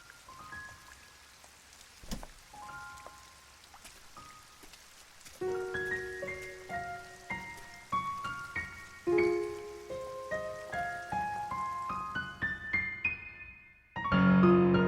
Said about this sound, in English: Perhaps rain comes.